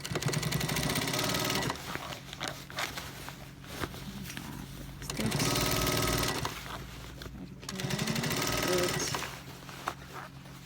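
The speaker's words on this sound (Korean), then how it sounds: "자, 스티치 들어갑니다." A sewing machine stitches military uniform pants during a tapering alteration, running in loud continuous bursts of rapid mechanical clatter separated by brief pauses.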